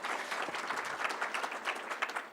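Faint, steady applause from a small audience for a graduating photography student at a graduate showcase, crisp individual claps close together throughout.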